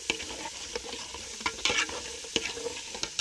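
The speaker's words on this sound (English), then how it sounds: "So I've added my fresh pepper to the pot. I'm going to stir it to mix properly." Fresh pepper being stirred in a pot for jollof rice, with a soft continuous sizzle and frying crackle broken by a few louder scraping strokes of the spoon, close and steady with no talking.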